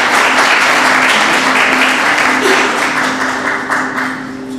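Loud, sustained applause from an audience welcoming H.S. Phoolka at a human rights award gathering, steady dense clapping that eases slightly toward the end.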